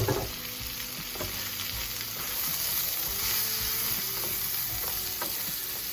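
Seasoning and coconut curry frying in olive oil produce a continuous dense sizzle with irregular soft thumps and scrapes from stirring, steady and close throughout.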